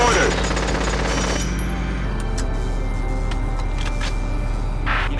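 Mortar fire rattles in a Valkyria Chronicles battle, a dense, loud burst of rapid impacts with mechanical clatter fading into scattered sharper cracks, game sounds over a steady low rumble.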